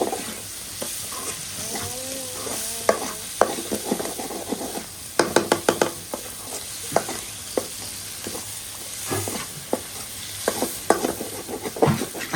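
Fish curry sizzles and crackles in a hot pan while it is stirred, with a steady frying hiss and scattered scrapes and clinks of the spoon against the metal.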